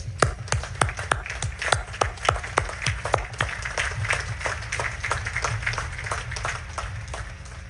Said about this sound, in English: let's give them a third round of applause